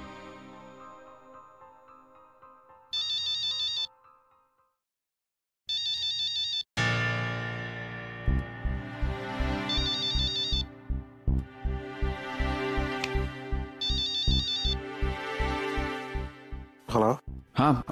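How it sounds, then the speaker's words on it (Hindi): A phone ringtone during a call in a Hindi TV drama sounds as repeated electronic trilling bursts separated by silences, then gives way to swelling background music with further ringing bursts. "मैं अभी फोन लगाता हूँ उसे।"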